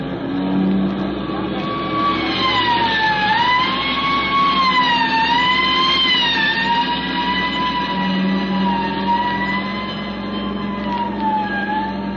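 Several police car sirens wail together in an old-time radio drama car chase, their overlapping rising and falling tones loud and steady throughout, layered over a low engine rumble.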